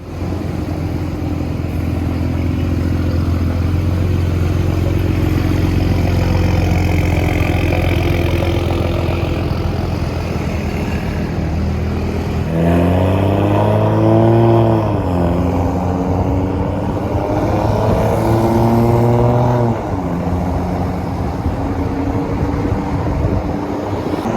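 Car engine rumbling while driving on newly fitted rims, a steady low drone that shifts midway into revving with rising and falling pitch sweeps, close and loud throughout with no speech.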